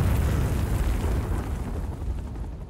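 A grenade explodes in the Vietnam War shooter Rising Storm 2, a deep rumbling blast with debris roar that slowly fades over a few seconds, with no voices.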